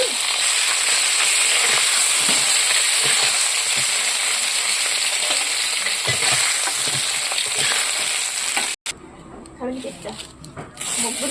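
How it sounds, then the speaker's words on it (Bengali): Steady, loud sizzling of a fish head frying in hot oil, a dense crackling hiss close up that runs for most of the stretch before cutting off abruptly and dropping to a quieter sputter near the end. "সুন্দর হয়ে গিয়েছে মাথাটা ভাজা, এখন নামিয়ে নেব।"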